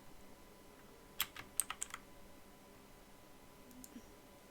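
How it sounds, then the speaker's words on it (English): Quick keystrokes on a K552 mechanical keyboard come in a short run of crisp clicks, close but quiet, followed by near silence and a couple of faint taps near the end. "This keyboard right here, it's a very good keyboard."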